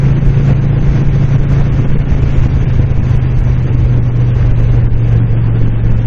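A 2007 Moto Guzzi Breva motorcycle cruises along Desert Lake Road, its engine a loud, steady low drone blended with heavy wind rush, close and continuous with no break.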